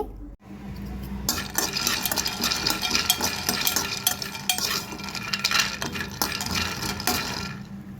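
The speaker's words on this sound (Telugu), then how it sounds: "వేరుశెనగపప్పు పప్పు ఇవి కొంచెం ఫ్రై చేసేసుకోండి ఎక్కువ లేకుండా లైట్గా ఫ్రై చేసేసుకోండి" Peanuts being lightly fried in a pan for a tomato chutney, with steady stirring and scraping of a utensil against the pan over a soft continuous frying hiss, close and fairly loud throughout.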